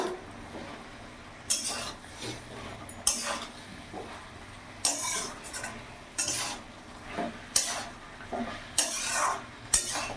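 Fish head and spinach stalk curry stirred in a pan, clinking spoon strokes and scrapes every second or so over a low sizzle, close, with no talking.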